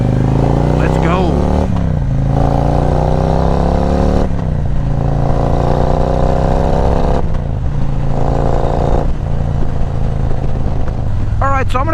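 A loud Harley-Davidson motorcycle with a stage 2 upgrade rumbles close by, revving up and dropping back several times as the bike rides along, with a deep throaty exhaust note throughout.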